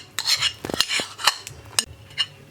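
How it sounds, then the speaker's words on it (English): Utensil mixing salad cream, mayo, tomato paste and black pepper sauce in a bowl: irregular clinks and scrapes, several sharp knocks among softer swishing strokes, close by. "And then you mix everything together with your garlic"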